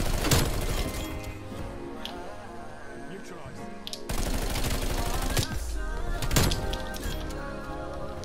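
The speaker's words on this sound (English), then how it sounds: "I feel like this gun's really good if I, like, the hip fire" Rapid hip-fire shots from the Bullfrog gun in a video game, dense bursts of gunfire with loud sharp reports, game music and effects underneath and a person talking over it.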